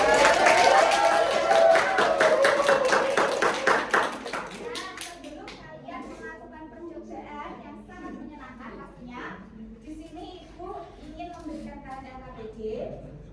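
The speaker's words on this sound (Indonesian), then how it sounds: "Ayo semuanya beri tepuk tangan untuk Nak Kesti" A primary school class claps for a pupil during a science lesson on light, with a burst of dense clapping for about four seconds that then fades into lighter scattered claps and children's chatter.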